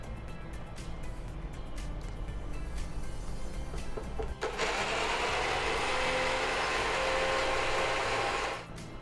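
A mixer grinder grinding garlic for pumpkin chutney runs at a loud, steady high whine from about the midpoint and stops near the end, after a stretch of softer clattering and handling noises.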